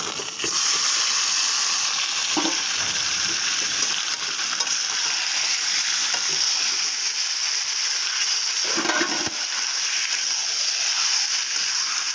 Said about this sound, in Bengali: আমি এখন দিয়ে দেবো ম্যারিনেট করা চিকেনটা